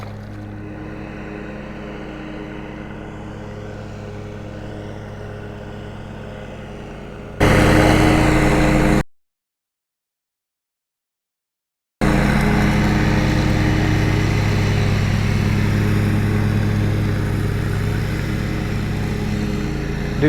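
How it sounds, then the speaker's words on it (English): A lawn mower works near a pond, its engine giving a constant droning hum, with a loud burst and then a short total dropout to silence midway before the steady drone resumes. "Dude's got the whole pond that he needs to mow, and he's mowing right where I'm fishing."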